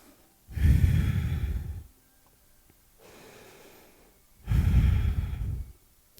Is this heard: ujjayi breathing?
yes